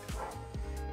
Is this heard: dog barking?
yes